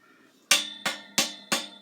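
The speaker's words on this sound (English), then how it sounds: "Just hammer it down so it's flush." Hammer tapping a part of a Seville 10-drawer cart down flush: four sharp, evenly spaced knocks in quick succession, close and clear with short ringing decays, no talk.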